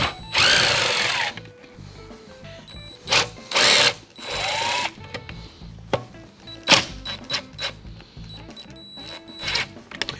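A power drill removes bolts from a ProTeam backpack vacuum motor, whirring in short, loud bursts between quieter clicks and handling noises, close up.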